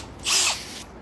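A power drill bores a hole in a 2011 Honda Pilot during a repair: one short, high whine of the drill, close and fairly loud, lasting about a quarter second before it stops, with no talk over it.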